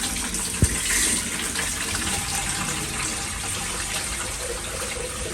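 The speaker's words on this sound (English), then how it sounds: "Let's empty some of this water out." Water pours out of a container in a steady gushing stream, close and continuous, with a brief knock near the start. It comes from a gold-refining setup.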